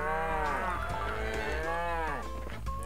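A Minecraft cow moos in a long, loud, wavering bellow that stretches across most of the moment and then trails off, standing alone with no talk over it.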